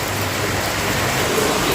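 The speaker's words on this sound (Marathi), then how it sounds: "एकदम जोराचा पाऊस चालू झालेला आहे" Dense, steady downpour of heavy rain, a continuous broadband hiss with no voices.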